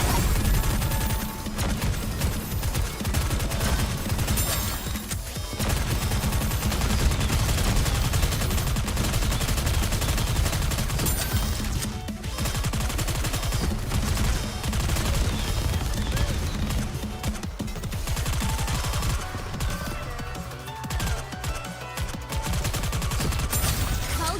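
Dense, sustained gunfire from the video game NIKKE, with rapid, overlapping shots and bursts that rattle on almost without pause, loud and close, with brief lulls and game voices mixed faintly underneath.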